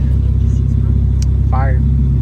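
A loud tuned BMW engine with roughly 500 horsepower, likely an N55 or N54, rumbles and revs steadily close by, while people talk over it.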